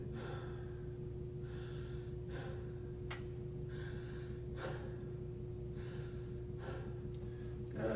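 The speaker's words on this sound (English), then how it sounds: "some more deep breaths for me" Slow, deep breaths in and out, about five cycles, close and quiet over a steady low hum.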